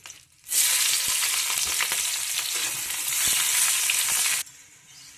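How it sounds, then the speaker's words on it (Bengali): Chopped onions frying in hot oil with whole spices (cardamom, cinnamon, two bay leaves and a dried chilli) burst into a loud, dense sizzle that holds for about four seconds, then drops away abruptly. "পেঁয়াজগুলো লাল লাল করে ভাজা হয়ে গেছে,"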